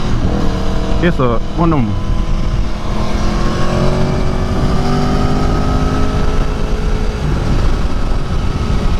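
A 2018 Aprilia Tuono V4 motorcycle engine drones loudly while being ridden, with two quick rev blips early and then a sustained rising pull. A rider talks over it with wind rush.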